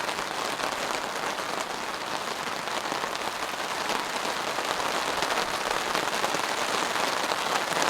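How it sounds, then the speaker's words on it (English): Steady rain drums on a tarp and a four-season tent during a storm at a car camping site, a dense, even patter of drops that stays constant and close throughout, with no voices. "listen to the sound of the rain"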